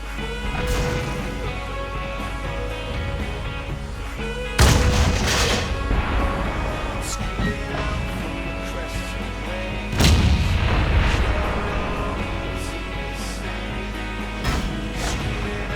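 Heavy tank cannon shots and impacts boom twice amid a constant rumbling engine drone in a tank battle game while driving the 268, each blast loud and followed by crashing debris.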